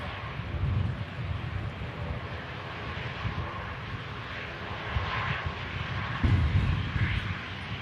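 Ryanair Boeing 737 landing at Manchester Airport, a steady distant jet roar with wind buffeting the microphone, the engine noise swelling slightly near the end.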